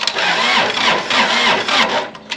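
A grain auger's engine cranking and trying to start during seed cleaning, a loud, continuous mechanical churn with uneven surges that runs without a break.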